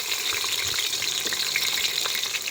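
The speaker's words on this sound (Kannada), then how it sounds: "ನಾವು ಈರುಳ್ಳಿನ ಕರ್ಕೊತಾ ಇದೀವಿ ಫ್ರೈ ಮಾಡ್ತಾ ಇದೀವಿ" Onions fry for Hyderabadi biryani in a village kitchen, a steady close crackling sizzle with occasional stirring scrapes, continuous throughout.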